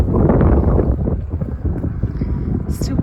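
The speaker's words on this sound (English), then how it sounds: "It's windy." Steady wind buffeting a microphone outdoors on a chilly early-spring day, a broad low rumble with gusty swells across the whole stretch, loud and close.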